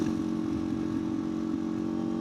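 Powerful sport motorcycles, Kawasaki H2R and Hayabusa types, pass nearby with a steady, loud engine drone that holds for a couple of seconds.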